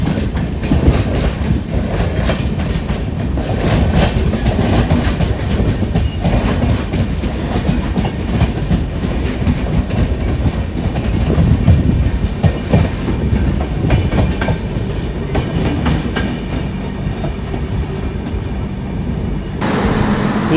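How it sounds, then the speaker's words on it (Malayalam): The Madurai–Chandigarh superfast train passes through a junction, a loud, close, continuous roar of wheels with rhythmic clickety-clack over the rail joints that holds steady throughout and then cuts off abruptly at the end. "ഇത് മധുരൈ ചണ്ഡീഗഡ് സൂപ്പർ ഫാസ്റ്റ് വണ്ടിയാണേ."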